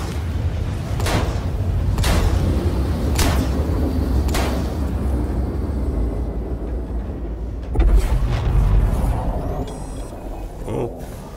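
Shotgun blasts in the Star Citizen video game come as a few evenly spaced, sharp thuds over a rumbling background, followed by a heavier low boom.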